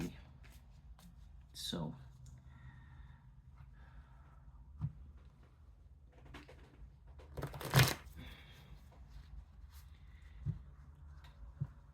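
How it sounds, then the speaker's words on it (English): Tarot cards being shuffled by hand: two quick, crisp riffling bursts heard close up in a quiet room, with a few soft rustles and a brief spoken word. "I'm just going to shuffle the cards"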